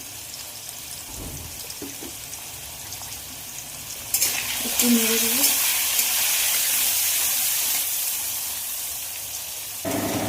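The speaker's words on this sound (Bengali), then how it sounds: "দেখো আমার আলুটা একদম ভাজা হয়ে গেছে লাল লাল করে" Potatoes frying in a pan with turmeric and salt for a Bengali potato dish, a steady close sizzle running throughout, growing denser midway as more goes in, with a brief voice over it.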